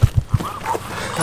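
A dog barks three quick times, close and loud, in a garden where a robot lawn mower is being tested. Quieter background noise follows the barks.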